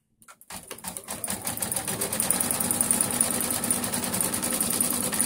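A Brother XV8500D sewing and embroidery machine stitches the outline of an appliqué, its needle settling into a fast, steady mechanical whir that carries on without a break after a brief start.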